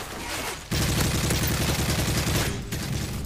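Sustained automatic fire from an ACR assault rifle in Modern Warfare 3, a loud rapid rattle of shots that starts abruptly and runs nearly continuously with a brief pause, close and dense, with no talking.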